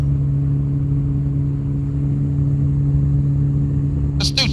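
A Quicksilver GT500 ultralight aircraft engine drones steadily and loudly in flight during a slow landing approach with flaps down, a constant low hum throughout with a brief burst of noise near the end.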